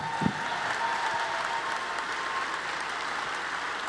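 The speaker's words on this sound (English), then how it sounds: "Give them a round of applause." Audience applause fills a stadium-style arena at a FIRST Robotics state championship event in Michigan, steady and continuous throughout with a sharp clap standing out near the start.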